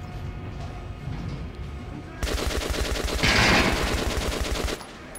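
Rapid rifle fire in Metro: Last Light, a quiet stretch giving way to a loud, steady burst of evenly spaced shots that runs for about two and a half seconds and then stops.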